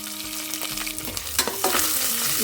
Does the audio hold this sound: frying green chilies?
yes